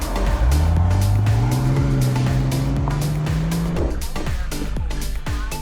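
A car's engine and road rumble heard from inside the cabin, with a steady drone and a rising then held engine tone, close and continuous, with no talking.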